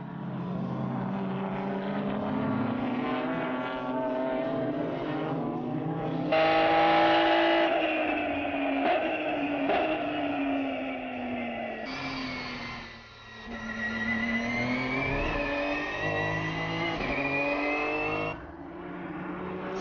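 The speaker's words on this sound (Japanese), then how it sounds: "15台ものスカイライン GTR のレーシングカーが一度に走るレースはこのレースを置いて他" Nissan Skyline GT-R race cars, R33 and R34 models among fifteen on track together at Fuji Speedway, their engines roaring loudly as they pass, with rising and falling revs and gear changes in a sustained, layered pack.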